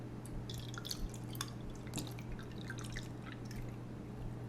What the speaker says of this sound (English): we're just going to rinse this can